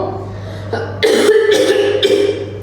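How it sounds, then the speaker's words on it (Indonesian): A single loud, harsh cough from a woman, close by, followed by a couple of rougher throaty bursts, with a steady low hum underneath. "Silakan untuk batuk yang keras"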